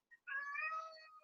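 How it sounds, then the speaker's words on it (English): A cat meows to be let out of a room, one brief chirp followed by a single drawn-out, crying meow, soft and somewhat distant in a quiet room. "if you hear crying in the background, my cat is meowing to get out"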